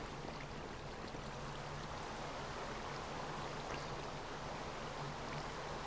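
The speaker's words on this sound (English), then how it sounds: "perfect water streams flowing to the center there." Flowing water streams in the Minecraft video game, a steady continuous rushing wash that holds at an even level throughout with no speech.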